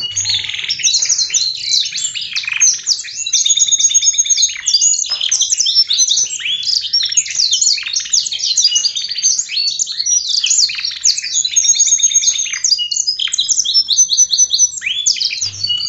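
A caged canary sings a long, bright, rapid warbling song with trills and chirps, loud and close, continuing almost without pause and with no one talking.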